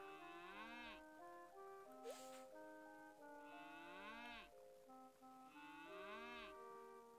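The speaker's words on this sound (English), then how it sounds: "I forgot how cute baby cows were." Baby cows in the Harvest Moon: One World farming video game give three drawn-out, tonal moos, evenly spaced and clear, over a quiet background.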